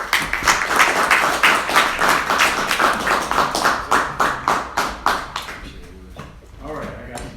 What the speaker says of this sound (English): Let's give a round of applause for Stefan West.